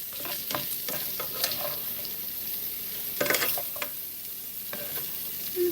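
Shrimp being lifted out of a hot frying pan for white wine garlic shrimp pasta, with steady sizzling and frying under scattered scraping and clinking stirs of a utensil, close and alone without talk.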